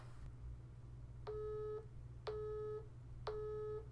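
Telephone engaged busy signal, three evenly spaced tones of about half a second each with steady pauses between them, clear and alone over a low hum.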